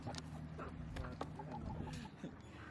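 Chickens on a small farm cluck in short repeated bursts at close range, a steady murmur of fowl with occasional louder calls over a busy background.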